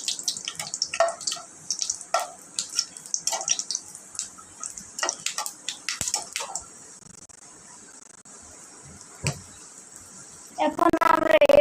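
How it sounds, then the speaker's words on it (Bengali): Dried chilies, bay leaf and whole spices crackle and sizzle in hot oil in a pan, with irregular sharp pops over a steady hiss, busier at first and then thinning out. "এখন এটা আমরা ভালো করে ভেজে নিব।"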